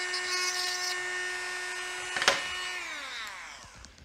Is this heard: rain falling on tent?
no